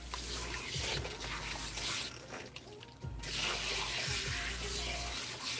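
Tap water runs steadily from a faucet into a sink while hair is rinsed, a continuous hiss with brief rubbing and splashing as the flow is briefly interrupted near the middle.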